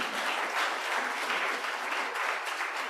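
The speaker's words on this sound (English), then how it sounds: "A round of applause" An audience at a climate justice summer school workshop in Nairobi applauds steadily, a dense, even wash of clapping that holds throughout without talk.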